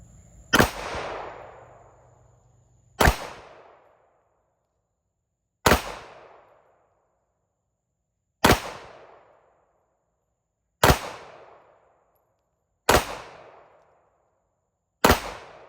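Seven sharp gunshots from a Ruger SR1911 9mm pistol ring out one at a time, loud and close, spaced roughly two to three seconds apart, each with a short fading echo and no talk.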